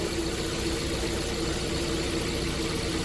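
A car engine with gasoline direct injection and port injectors idles steadily during injector testing, making a constant, even hum that stays level throughout with no speech.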